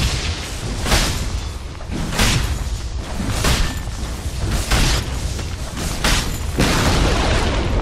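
Radiant's bottom tower crumbling in a Dota 2 match, heard as a loud, steady run of heavy booms, thuds and whooshes one after another, with no talking.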